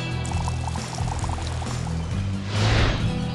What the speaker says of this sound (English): Pour in the water to get the sand nice and sticky.